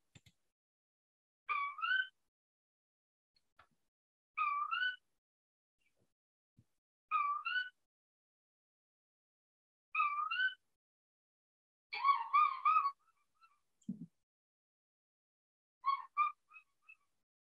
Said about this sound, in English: This is a koel.